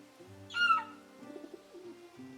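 A bird calls in Final Fantasy XVI with a short, bright chirping burst over a low steady musical drone, then softer warbling notes trailing off.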